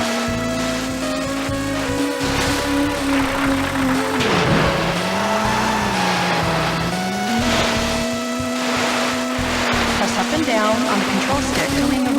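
Engine whine of a car in a Nintendo 64 racing game, a steady synthetic drone that dips and climbs as the car brakes and accelerates, with tire squeal and game music running throughout.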